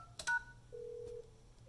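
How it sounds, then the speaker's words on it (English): A Yealink T53 desk phone dials an intercom extension: a quick pair of DTMF key tones, then a steadier single tone held for about half a second, quiet and clean with no talking. "I can also press ICOM and dial his extension."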